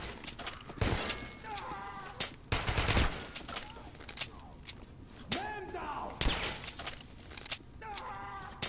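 Gunfire in the video game Metro Last Light: sharp shots crack out in bursts over steady background game noise, while people talk throughout.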